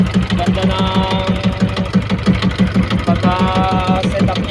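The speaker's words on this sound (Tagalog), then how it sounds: "Yan yung aking makina na electric starter." A boat's electric-start engine runs steadily with a rapid, even mechanical chugging and a faint whine above, loud and close with no talk over it.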